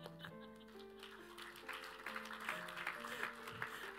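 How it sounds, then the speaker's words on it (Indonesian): A church congregation applauds during a sermon, a dense patter of clapping swelling midway and continuing under sustained keyboard or organ chords. "Saya tuh tahu saudara tepuk tangan"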